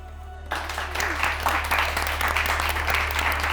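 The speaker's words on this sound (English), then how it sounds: "Are we all clapping?" An audience breaks into steady, dense applause that starts abruptly after a brief lull and carries on loud and continuous, with a low constant hum underneath.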